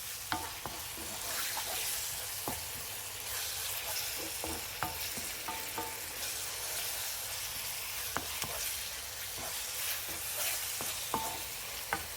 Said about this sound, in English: Cook the tomatoes until they are completely softened, which will take about 10 minutes.